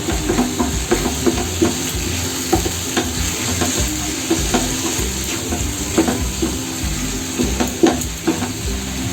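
Spice masala for egg curry fries in oil in a pan, a loud continuous sizzle broken by frequent scraping stirs, with no talking.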